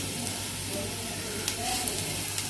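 Four green chilies, slit lengthwise, fry in a pan for vegetable biryani, giving a steady close sizzle with a few small crackles and pops.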